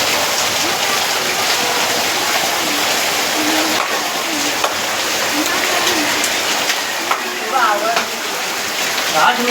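Heavy rain pours in a constant dense hiss, with faint voices and a few bird calls underneath.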